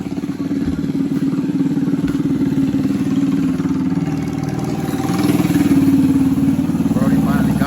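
A minibike engine with a freshly tuned carburetor runs steadily at a close, loud, rough idle, then picks up slightly in pitch and volume toward the end, with people talking over it.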